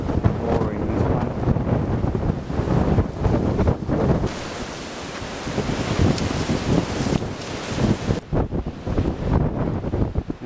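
Strong, gusty wind at a coastal lighthouse in Tasmania roars across the microphone in continuous buffeting bursts, loud and unbroken, with no other clear sounds.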